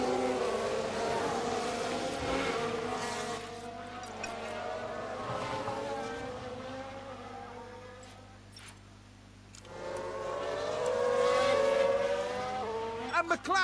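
Formula 1 race car from F1 Manager 22 accelerating away from the pit lane at Mexico City, a steady high engine whine rising in pitch over several seconds, briefly fading around the middle before surging again, with commentary speech underneath.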